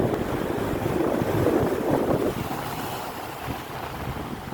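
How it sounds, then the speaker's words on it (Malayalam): Rough, storm-driven sea waves at Peringadi beach in heavy rain, a continuous broad roar of surf and wind buffeting the microphone, swelling loudest in the middle and staying steady with no voices. "പെരിങ്ങടി കടപ്പുറം കടൽ ക്ഷോഭം അതിരൂക്ഷമായി കൊണ്ടിരിക്കുന്നുണ്ട്"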